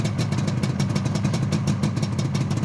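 A motorcycle engine running steadily, close and loud, its rapid even beat continuing without a break and with no voices over it.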